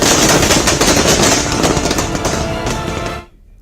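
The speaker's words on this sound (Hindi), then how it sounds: "बेंगलुरु में जेडीएस के कार्यकर्ताओं ने भी जमकर पटाखे चलाए।" JDS party workers set off firecrackers in Bengaluru to celebrate the 2024 Lok Sabha election results, a loud, dense burst of rapid crackling pops that runs on continuously and then cuts off abruptly near the end.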